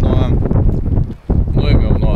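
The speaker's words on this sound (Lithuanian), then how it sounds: "Labai didelis vėjas" Strong wind in Turkey buffets a camera microphone, loud low rumbling roar that briefly drops off midway, then returns at full strength.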